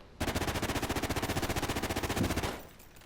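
A weapon fires a sustained rapid automatic burst in Call of Duty: Ghosts, evenly spaced loud shots in a tight rhythm for over two seconds before ceasing abruptly.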